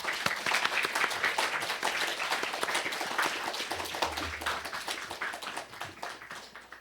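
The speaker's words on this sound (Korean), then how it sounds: "큰 박수로 오시도록 하겠습니다." Sustained applause from a church congregation, many hands clapping steadily and fairly loud throughout, with no talking over it.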